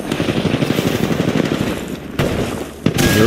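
Video game gunfire with bursts of rapid automatic shots, fairly loud and close, with short gaps and sharp louder cracks near the end.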